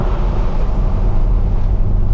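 Wind rushes and buffets inside a 2012 Corvette C6 Grand Sport with the windows down, a loud, low, continuous roar blended with road and engine rumble.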